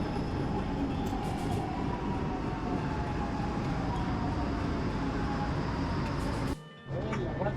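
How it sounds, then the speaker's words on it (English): A Milan M1 metro train rumbles into an underground station, a loud continuous roar of wheels and motors with faint squeals, briefly dropping away near the end before resuming. "we are just waiting for our metro"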